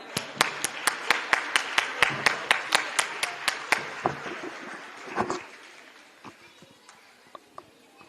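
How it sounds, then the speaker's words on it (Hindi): Audience claps in unison for a team being called onto a stage, loud regular beats that slow, then give way to scattered quieter claps before fading. "टीम फतेहपुर के लिए जोरदार तालियां।"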